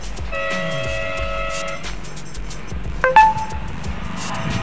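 A vehicle arriving outside: a low engine rumble with a steady, horn-like tonal note for a second or two, then a sharp metallic clink, fairly close and moderately loud.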